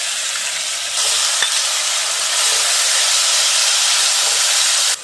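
Mustard seeds, cumin and a crushed ginger, garlic and green chili paste crackling in hot oil, a loud, steady broadband sizzle that swells after the first second and holds, with a single sharp pop near the middle.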